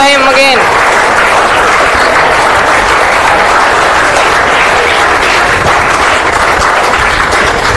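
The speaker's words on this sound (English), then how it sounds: "Let's have a big round of applause for him again." A school audience gives a big round of applause for a class 8 student about to present, loud, continuous clapping throughout, with a brief voice at the start.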